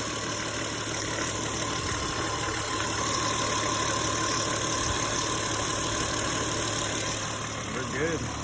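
An R32 car engine idles steadily just after starting, a constant close rumble with a faint tick, and someone speaks briefly over it.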